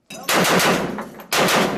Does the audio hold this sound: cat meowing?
no